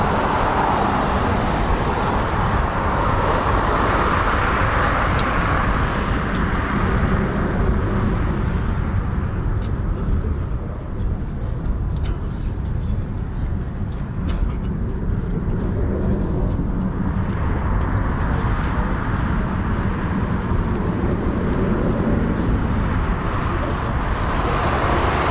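Eurofighter Typhoon FGR4 jets departing RAF Coningsby, a steady, heavy roar that holds for the whole stretch with only slight swells and dips and no voices over it.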